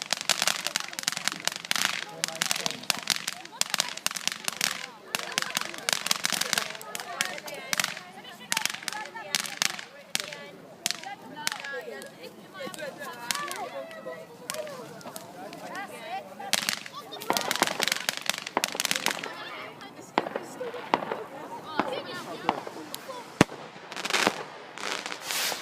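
Fireworks burst and crackle outdoors on Bonfire Night, a dense run of sharp bangs and crackling pops going off repeatedly over about 25 seconds, with people talking and calling out between the blasts.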